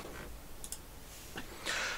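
Quick, light clicks from a computer keyboard being typed on, a few scattered keystrokes close by and fairly quiet, with no talking.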